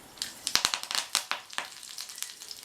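Mustard seeds splutter in a tablespoon of hot oil in a kadai, a quick irregular run of sharp pops and crackles close by, with no talking.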